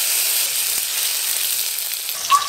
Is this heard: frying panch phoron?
yes